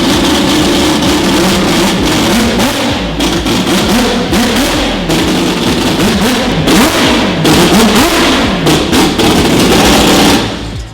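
A drift car engine fires up and runs loud and close, with a rough, choppy idle and repeated blips of revving throughout, no voices over it.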